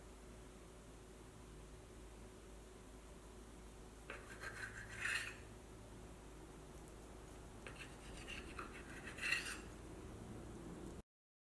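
A knife slices at an angle through rolled bun dough, giving two short soft scraping strokes a few seconds apart over a quiet background.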